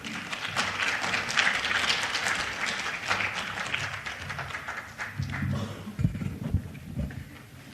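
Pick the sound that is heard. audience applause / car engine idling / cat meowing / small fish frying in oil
audience applause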